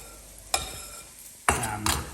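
Lamb and capsicum frying in a pan for gozleme filling, stirred in three sharp scraping bursts over a steady low sizzle, close and fairly loud.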